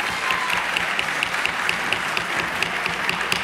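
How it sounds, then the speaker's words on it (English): An audience at a congressional hearing on Willets Point applauds, a steady wash of clapping from many hands at moderate loudness, lasting the full few seconds. "We really can't have the applause in here."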